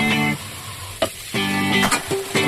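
Garlic frying in oil in a pan, a short close sizzle broken by a few stirring knocks and clatters, with no one speaking.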